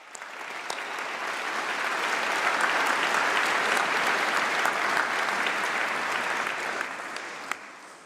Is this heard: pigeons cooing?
no